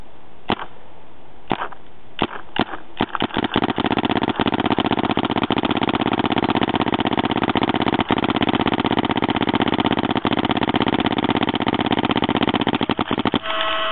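A Planet Eclipse Geo2 Dark Edition paintball marker fed by a Dye Rotor loader fires on PSP uncapped mode, a few single shots opening into a long, loud, rapid continuous stream of shots at close range.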